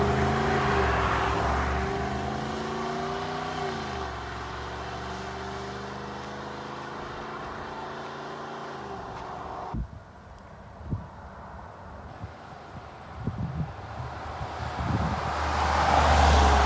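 A 2022 Jeep Grand Wagoneer driving on the road, with a steady engine drone and tyre and road roar that climbs in pitch, then turns rougher with scattered thumps and bumps. No voices.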